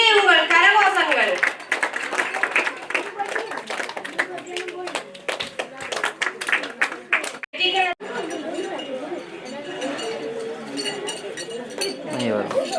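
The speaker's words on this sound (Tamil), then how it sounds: "இங்கே உங்கள் கரகோஷங்கள்." Audience clapping at an honour ceremony for students who excelled in an international silambam competition, steady hand claps running under loud nearby talk and chatter throughout.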